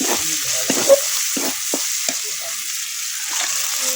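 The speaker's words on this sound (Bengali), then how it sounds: "আগে কিন্তু মাংসটা হলুদ দিয়ে ভেজে রাখা হয়েছিল, এখন মশলার মধ্যে ছেড়ে দেওয়া হবে।" Meat already fried with turmeric now frying in a spice mixture in a pan, with a loud steady sizzle and several distinct stirring scrapes up close, no talk over it.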